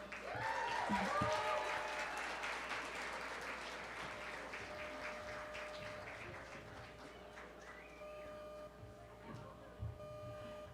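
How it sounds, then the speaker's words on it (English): An audience at a Boston women's reception claps for Mayor Michelle Wu, a fairly quiet, distant patter of applause that fades over several seconds with faint voices and room noise beneath. "So please clap it up for our mayor, Mayor Michelle Wu"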